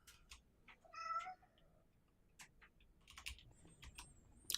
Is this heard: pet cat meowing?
yes